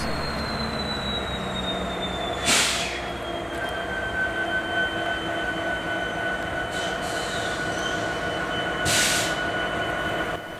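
A diesel locomotive hauling a freight train rumbles past steadily with long, high-pitched wheel squeals and a couple of sharp metallic bangs, no voices.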